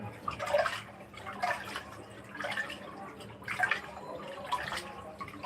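Water splashing and dripping as small fish are washed, soft repeated sloshes in an uneven rhythm, close by, with no talk.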